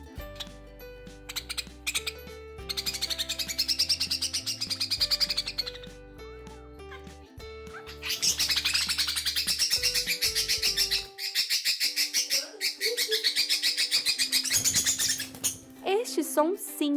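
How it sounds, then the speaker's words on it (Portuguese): A budgerigar parakeet loudly screaming and chattering in bursts of harsh, high, buzzy calls mixed with sharp chirps, close and prominent, with short pauses between bouts and a faint voice in the background. "Muitas vezes o seu periquito só está a fim de gritar."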